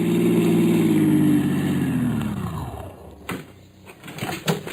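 Car engine sound effect for a 1949 radio detective drama, a steady mid-pitched hum and rumble that winds down as the car slows and stops, followed by faint handling knocks, no voices.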